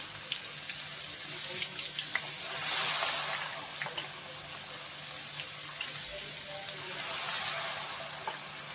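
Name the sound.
ghevar batter poured into hot ghee, foaming and bubbling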